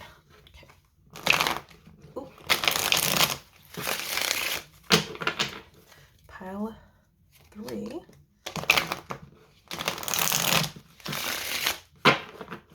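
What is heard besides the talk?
shuffling tarot cards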